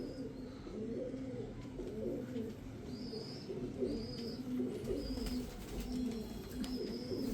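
Several UK Brand second-generation pigeons coo continuously in a low, rolling, overlapping chorus close by, with occasional faint higher chirps above and no speech.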